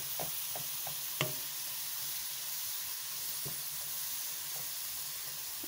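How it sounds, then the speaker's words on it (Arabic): Fish pastilla filling sautés in a pan, giving a steady, moderate sizzling hiss that runs throughout, with a few sharp clicks and scrapes of stirring and no talking. "غادي نشحرو مزيان حتى يدبل معايا مزيان وينشف من الماء"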